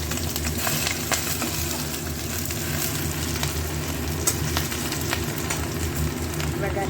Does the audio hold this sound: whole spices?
yes